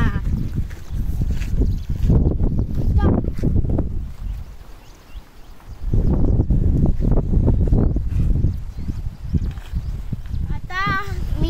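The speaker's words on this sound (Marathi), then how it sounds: "आता तुम्ही पाहू शकता किती हवा आहे" Strong wind on a hill fort trek at Agashiv near Karad roars as a continuous low, buffeting rumble that swells and eases in gusts, with voices faintly underneath.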